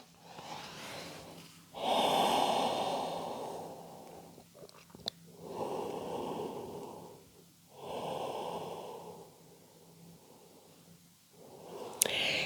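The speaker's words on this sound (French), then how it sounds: "Je garde des respirations bien profondes" Slow, deep breaths during an elastic-band Pilates session: long audible inhales and exhales in a calm rhythm, four or five full cycles, close to the microphone with no talking.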